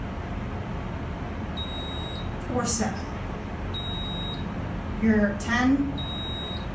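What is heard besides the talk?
elevator floor-passing beep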